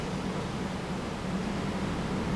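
A steady, hollow wind sound effect with a broad, reverberant wash in Unreal Engine 5.5, constant in level throughout with no gusts or breaks.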